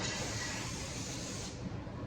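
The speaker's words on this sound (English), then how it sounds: "I'm gonna spray this down so nothing sticks" Cooking spray is sprayed onto a pan in a home kitchen as a steady, close hiss lasting about a second and a half before cutting off into quieter room noise.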